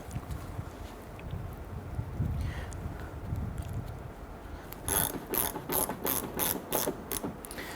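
A ratchet with a 19mm socket tightens the hex-head antenna trim nut on a 1992-1996 Toyota Camry, a run of about eight quick, loud clicking strokes after a quieter stretch of background noise.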